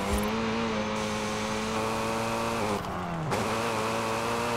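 A tuned Hyundai Elantra in Forza Horizon 5 drones with a steady, loud engine note heard from inside the cabin, pitch holding high before dropping sharply on a shift and climbing again.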